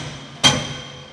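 A single sharp hammer strike on metal during camper van repair work, with a bright ringing tail that fades over the remaining second.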